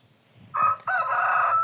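A rooster crows loudly and close by, a bright drawn-out call broken by a brief gap, with faint low clucking from other chickens underneath.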